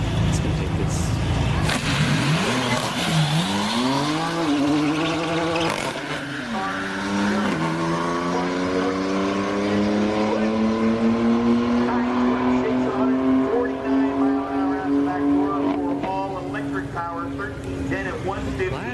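A Tesla Model S Plaid and a BMW 340i launch side by side down a drag strip at an Orlando speedway event, engine and motor noise rising in a long sweeping pitch climb, loud and close, with tire noise and crowd chatter underneath.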